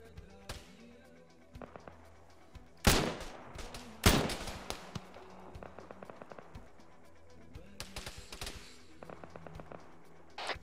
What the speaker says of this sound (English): Taking shots from our northwest now.